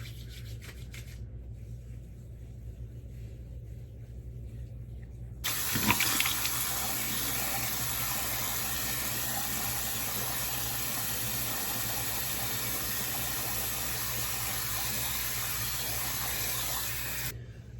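Running water from a sink tap splashes steadily as someone rinses cleansing oil off their face, a loud continuous wash that starts abruptly after a few seconds of quieter hiss and lasts to the end.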